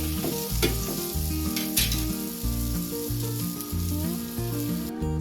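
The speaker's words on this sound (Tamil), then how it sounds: "ரெண்டு கரண்டி வச்சு நல்லா பிரட்டி விட்டுடலாம்" Veg omelette mixture of egg and vegetables fries in a pan over a medium flame while two ladles turn it, sizzling steadily under a low, rhythmic pulsing hum, with no voices.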